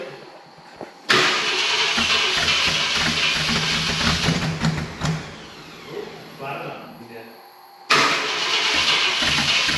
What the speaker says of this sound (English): Alright, crank it, crank it.